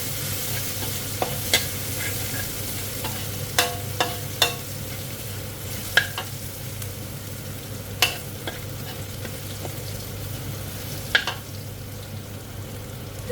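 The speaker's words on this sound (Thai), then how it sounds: "ผัดให้พริกนะคะกับกระเทียมสุกเพื่อหน่อยนึง จะได้หอมๆค่ะ" Chili and garlic sizzle in a hot pan as a spatula stirs them, a steady frying hiss broken by occasional sharp scrapes and clinks of the utensil against the metal.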